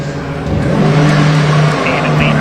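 An Assetto Motorsport Ginetta race car pulls out of the pit lane at Silverstone, its engine droning loud and steady at limited speed, close by, with a commentator talking over it.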